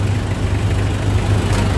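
Mitsubishi L300 FB-type van engine idles steadily, a close low rumbling hum with even, continuous throb and no voices.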